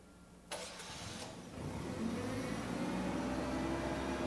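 A propane-powered forklift engine turns over and catches, then settles into a steady mid-pitched idle that holds close and even, with no voices.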